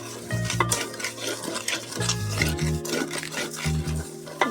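Chittagong-style haleem being stirred in a pot: a ladle scrapes and knocks against the metal in repeated strokes over a steady background sizzle.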